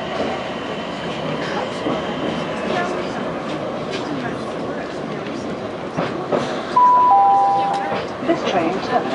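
Train ride from Falconwood to Charing Cross: steady rolling rumble of a train in motion with a brief high wheel squeal near the end, the sound getting louder toward the close.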